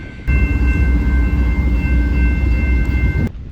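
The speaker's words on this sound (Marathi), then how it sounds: "ट्रेन आता पुढच्या प्रवासाला निघून गेली" An Amtrak train pulls out of a station, its loud, close, steady rumble and high whine filling the scene for about three seconds before cutting off abruptly.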